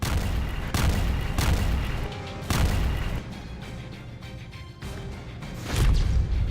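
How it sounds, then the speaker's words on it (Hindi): Phosphorus bombs exploding over Nagorno-Karabakh, a series of loud, heavy booms arriving every second or so, each with a rumbling decay and dense crackle between blasts, spread across the whole stretch without voices. "नागोर्नो काराबाख में गिरा फास्फोरस बम।"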